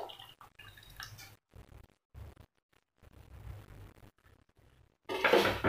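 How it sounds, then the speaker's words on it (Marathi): Tamarind and rice flour water poured into a pot of drumstick leaf curry, a short splashy pour rising near the end after quiet stretches of faint handling sounds. "आता हे पाणी आपण बनवून घेतलेलं आहे ते ह्याच्यामध्ये आपण घालून घेऊया"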